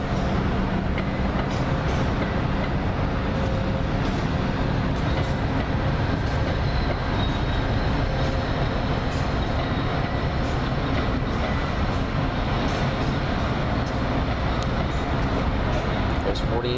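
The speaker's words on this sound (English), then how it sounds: "NJT train." A New Jersey Transit commuter train rolls past close by, a loud, steady broadband rumble and clatter of rail cars that fills the whole stretch without letup, with faint voices underneath.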